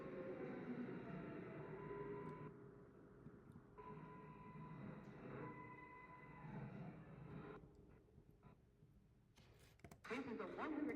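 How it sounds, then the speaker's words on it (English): A New York City subway 4 train rolls along with a steady, close rumble and sustained whining tones that rise and fall. A voice speaks over the running noise. "This is a 125th Street bound 4 train."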